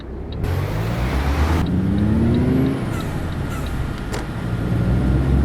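A Volvo truck engine in Euro Truck Simulator 2 revs loudly after a skipped gear, a steady close drone with rising and falling pitch and a brief dip in the middle.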